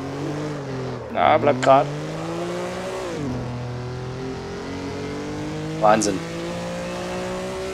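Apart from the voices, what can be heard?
Maserati 250F engine shifting into first gear at Imola, from video game Assetto Corsa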